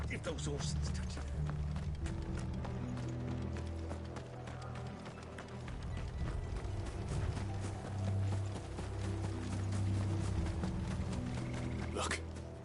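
Horses' hooves clip-clopping in Final Fantasy XVI, a busy run of hoof beats mixed with rumbling movement and scattered clatter, sustained throughout at moderate loudness with game dialogue and voices over it.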